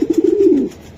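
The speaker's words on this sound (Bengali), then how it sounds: "এটা অনেক টাকার কবুতর ভাই" A racing pigeon from a club coos close and loud, a low throaty rolling call lasting under a second.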